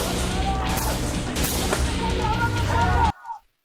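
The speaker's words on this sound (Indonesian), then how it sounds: "kalau misalkan dengar suara tembakan yang desyung kayak gitu, itu adalah suara senjata yang kedengaran kalau misalnya senjatanya pakai silencer" Suppressed gunshots from a silenced firearm in a film scene, a dense mix of impacts and mechanical clatter over a layered action soundtrack, loud and continuous before cutting off sharply to near silence.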